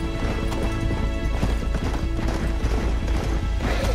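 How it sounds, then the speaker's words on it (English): A horse gallops steadily in the Red Dead Redemption video game, hooves clip-clopping in a fast continuous rhythm, loud and close, with a brief whinny and some rough crashing noise mixed in. "go faster, you stupid horse!"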